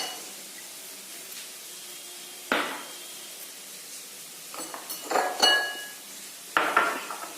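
A bowl is handled while finely chopped cabbage is added: a few sharp clinks and clatters of dishware, with soft rustling and quiet gaps between. It is close, with no voices.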